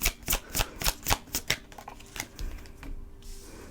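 Tarot cards being shuffled by hand, a rapid run of crisp riffling flaps and slaps that slows into softer rustles as the cards are laid out, close and fairly loud with no talk.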